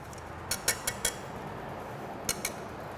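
Sugar and unsweetened cocoa powder stirred in a bowl for a chocolate lava cake, a few quiet clinks of utensil against the dish in two short bursts over a soft steady background.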